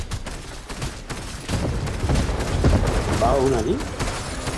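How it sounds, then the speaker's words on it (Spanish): Gunfire from a shooting video game crackles in rapid bursts, building into a dense volley while a player talks over it. "igual como disparo con esta y con la otra"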